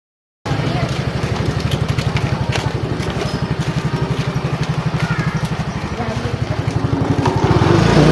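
A motorcycle engine runs close by on a rainy street in Colacling, Lupi, Camarines Sur, Philippines, with a steady, throbbing putter that grows louder toward the end, drowning out other street noise.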